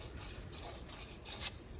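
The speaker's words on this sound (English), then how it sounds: "Just lightly sanding out the cup holders here" Light sanding by hand inside the bearing cup holders of a front axle casting, a soft rhythmic rasping in four or five short strokes, close but quiet, with no talk.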